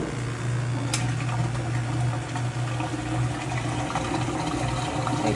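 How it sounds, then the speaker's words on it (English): Water drains steadily from a washing machine drain hose during a WATTS box replacement, a continuous close rush of flowing liquid with a low gurgling hum throughout, no talking. "So just drain that water out,"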